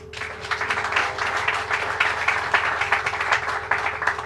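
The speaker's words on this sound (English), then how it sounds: "You get 2 rounds of applause today." Audience applause at a governor's outdoor event, a dense, steady wash of many hands clapping, fairly loud and sustained, with a low hum underneath and no speech.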